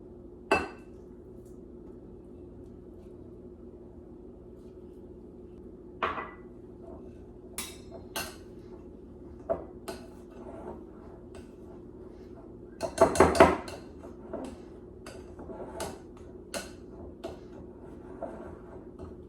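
Solid coconut oil being cut into scone mixture for pumpkin and chocolate scones, heard as sparse, quiet taps and scrapes of utensil on bowl, with a brief cluster of louder clinks midway.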